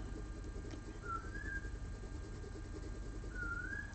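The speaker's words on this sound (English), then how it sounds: "Listen to the coel start." A koel calls twice in the distance, each a short rising whistled note, over steady low background hum.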